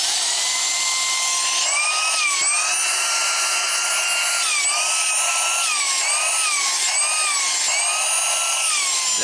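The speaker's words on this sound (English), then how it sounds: "That's your household extractor." A small green household bug extractor running continuously up close, a loud high-pitched electric whine that wavers in pitch as it is handled.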